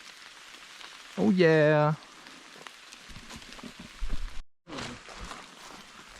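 Steady rain pattering on a forest ridge trail while hiking in fog, a constant soft hiss throughout, interrupted by a short loud voice and brief talk, with a sudden dropout near the end.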